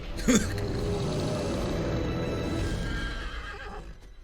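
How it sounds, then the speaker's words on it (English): Horses whinny once, loud and close, then hooves clip-clop steadily through a TV drama scene in Once Upon a Time, against a dense, even background. "You're scaring the horses."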